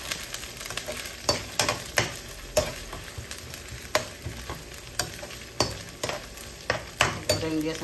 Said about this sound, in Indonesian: Goreng dia sampai garing.